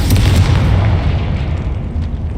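A loud, close boom from the Confringo fire spell in the video game Hogwarts Legacy, a dense low-heavy blast that rumbles and slowly decays over two seconds, with no speech.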